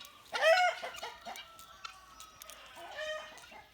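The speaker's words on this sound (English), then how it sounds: "my guineas are freaking out now up here" Agitated guinea fowl give loud, harsh, repeated cackling calls close by, in bursts with brief gaps between them.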